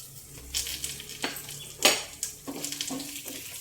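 Garlic, dried red chilies and cumin seeds sizzle in hot oil for a tempering, with a soft steady fry broken by spoon scrapes and clinks against the pan.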